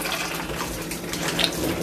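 Hot tap water running while dishes are rinsed, a steady splashing flow throughout, close and moderately loud.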